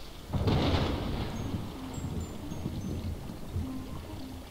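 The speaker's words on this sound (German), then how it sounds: "Er macht mal ein bisschen Hagel hier erstmal." A hailstorm power unleashed in the Ghost Master video game: a sudden rushing burst of rain-like pattering and rumble that settles into a steady storm wash.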